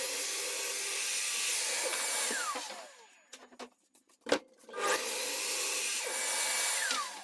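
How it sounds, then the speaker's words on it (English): A chop saw trims the ends of wooden boards for a dining table: two loud whining cuts, each spinning up and down, separated by a quiet gap holding a few clunks and knocks of boards being moved. "Jump on the chop saw, clean the ends up on them"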